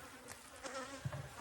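Angry Africanized honey bees swarm around an opened hive, their buzzing a close, steady drone with individual bees whining past, heard alone without talk.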